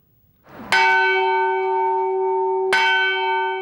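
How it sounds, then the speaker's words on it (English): Church bells at St. George's Cathedral in Jerusalem ring out loud and near, with two clear strikes about two seconds apart whose bright tones hang and sustain between them, with no talk. "Here at St. George's Cathedral in Jerusalem, Mordecai Vanunu enjoys ringing the bells."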